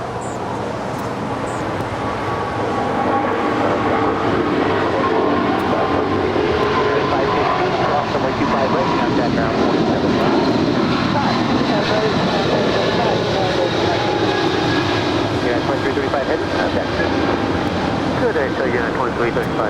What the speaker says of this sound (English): It's 777-200ER, taking off there on 25 right.